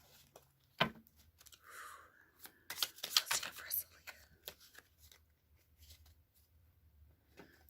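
Tarot cards shuffled and dealt in short, soft riffling and flicking bursts, with quiet rustles between them and no talk over them.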